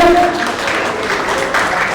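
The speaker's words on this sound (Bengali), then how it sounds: "আপনার হাততালি দিন চলে।" An audience at a college alumni association felicitation event claps, a continuous crowd applause of many hands, fairly loud and even throughout, with a brief voice at the start.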